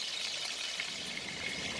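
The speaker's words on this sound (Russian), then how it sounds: "Разогреваю как следует, укладываю тушку. Жарю на огне выше среднего." Chicken carcass (tabaka-style whole split chicken) frying in hot sunflower oil in a pan over above-medium heat, a steady, even crackling sizzle throughout with no talk.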